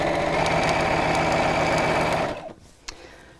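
A sewing machine hums steadily and loudly while quilting lines across a fabric caddy, then winds down and stops, followed by a single soft click.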